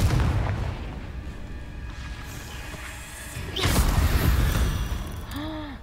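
A Confringo spell goes off in a Harry Potter video game: a sudden booming burst midway through, rising out of a steady rumbling in-game background with a short whooshing trail afterward.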